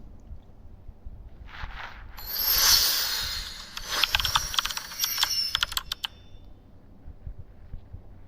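AI-generated typing sound: a few soft taps, then a swelling hiss and a quick run of crisp keyboard clicks that thin out into scattered faint taps, with no voices.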